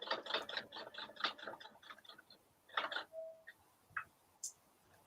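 A sewing machine stitches across layers of fabric in quick rhythmic bursts of mechanical clatter, pausing and restarting, close and fairly loud, with a few lone clicks near the end.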